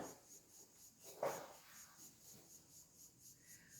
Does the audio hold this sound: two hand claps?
no